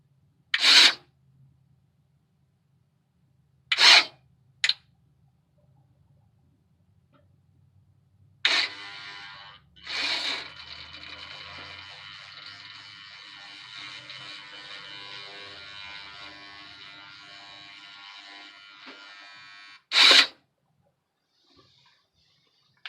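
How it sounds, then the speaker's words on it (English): A 4x4 front-axle shift motor on a Chevy Blazer/Envoy truck running roughly, a steady faint buzzing hum lasting about ten seconds, with a few sharp clicks and knocks before and after. "We are going to make sure that when we hit the switch that the shift motor is actually kicking on"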